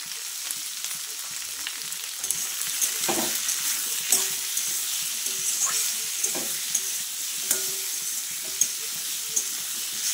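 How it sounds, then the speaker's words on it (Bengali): Potatoes, green tomato and puti fish fry in a pan with a steady, close sizzle, while a utensil scrapes and stirs in irregular taps and clinks throughout. "আর একটু ভাজা হোক।"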